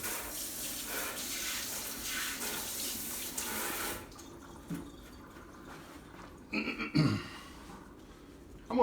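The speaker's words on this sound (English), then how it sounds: "I'm going to wash my hands real quick." Hands are washed under a running tap: a steady, close rush of water for about four seconds, then it stops, leaving a few faint knocks and handling noises.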